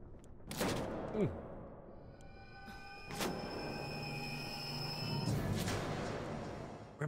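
Gunfire in the survival horror game Alien: Isolation, a few sharp shots cracking out at separated moments over a low humming ambience, with a brief vocal sound near the start.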